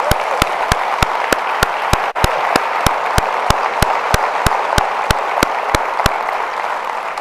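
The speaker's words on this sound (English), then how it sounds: "Let's give her a big round of applause" Applause for the student body president at a university address, heard as a steady wash of clapping from a large crowd with sharp regular clicks running through it, continuous and fairly loud with no talking.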